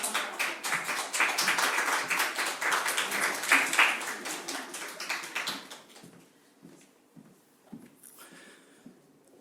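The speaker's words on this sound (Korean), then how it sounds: "박수!" A church congregation at a Korean Sunday service breaks into lively applause. The clapping rings out strongly for about six seconds, then fades to a few scattered claps.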